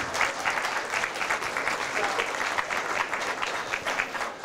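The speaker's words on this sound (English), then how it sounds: "a round of applause" A dense round of applause fills the room at an athletic hall of fame awards ceremony, many hands clapping steadily at moderate volume for the full few seconds with no voices over it.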